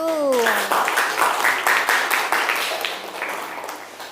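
Scattered applause from participants in a training session, a dense wash of clapping after a brief voice, moderately loud and fading slightly toward the end.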